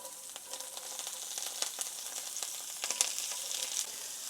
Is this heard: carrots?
yes